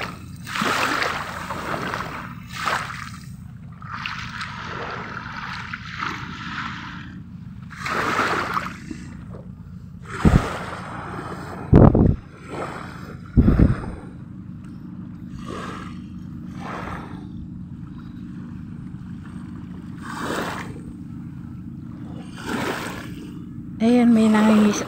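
Motorized bangka outrigger boat engine puttering at a beach in Batangas, a low steady drone under speech and ambient shore noise, with a louder engine burst near the end.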